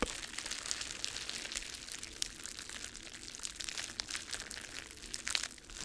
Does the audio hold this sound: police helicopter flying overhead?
no